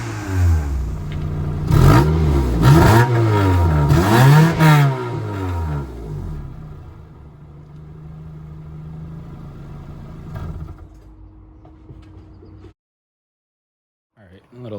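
A used car's engine revs hard several times in rising and falling bursts up close, then settles into a steady idle before cutting off, with a short sound returning at the very end.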